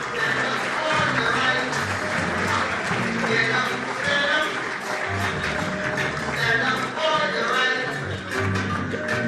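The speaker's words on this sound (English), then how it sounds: "keep that applause going" Applause continues at a Labour Day banquet, blended with background music and murmuring voices, the clapping fairly steady but partly masked.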